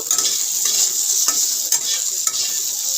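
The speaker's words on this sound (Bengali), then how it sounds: "ঢ্যাঁড়সগুলো দিয়ে একটু ভালো করে ভাজা ভাজা করে নেব" Okra frying in a pan for a spicy mustard-paste and green-chilli okra dish, a steady close hiss of sizzling oil broken by several scraping strokes of a spatula stirring the pieces.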